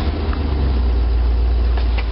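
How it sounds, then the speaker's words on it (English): A 1957 GMC/Wayne bus engine idles after a cold start through an unfinished exhaust, a loud, steady low rumble with an even throb close by and no talking. "Get it idle for you for a minute and hear the not finished exhaust."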